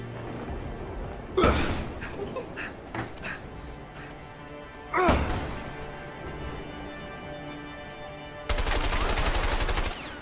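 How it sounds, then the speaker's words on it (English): Gunfire in the co-op video game A Way Out: a few sharp isolated shots and impacts, then a sustained rapid burst of automatic fire near the end, all fairly loud over a quiet background. "Shooting out your cover."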